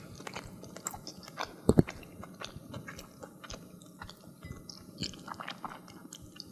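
Someone close to the microphone chews Claussen pickle spears, with a loud crunchy bite near the start followed by irregular wet, squishy chewing and smaller crunches, and no talking.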